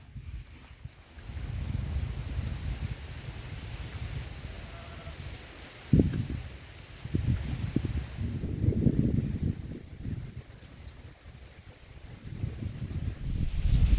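Low, rumbling gusts of strong wind buffet loudly at a fishing spot, swelling and easing in waves, with occasional knocks and rustles in between.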